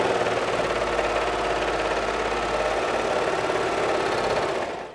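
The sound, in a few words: sewing machine stitching a neckband seam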